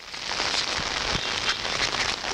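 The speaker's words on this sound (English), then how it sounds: "We did not need any more rain." Heavy rain pours steadily during a storm, a dense hiss of drops drumming on an umbrella and surfaces close by, with occasional louder splatters and no voices.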